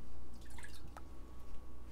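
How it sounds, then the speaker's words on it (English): A quarter cup of water is poured into a General Tso sauce of rice vinegar and light soy sauce, a brief soft splash and drip up close. "Next, 1/4 cup of water."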